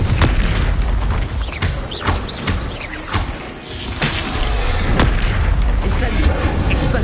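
Confringo explosive spell blasts in the video game Hogwarts Legacy, with loud, booming bursts repeating amid continuous combat noise and clashing effects.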